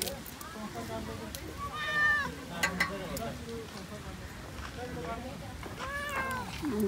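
A cat meows several times, with clear drawn-out cries scattered across the stretch at night, under people talking in the background.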